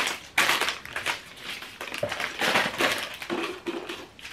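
Thick Christmas wrapping paper is crumpled and crushed by hand in a run of uneven crackling rustles, close up and moderately loud, with no talking.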